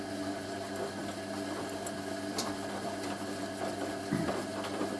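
Hoover A3060 Electronic 1100 washing machine running a 60ºC fast coloureds wash, with a steady motor hum and drum churning and faint knocks throughout, alone.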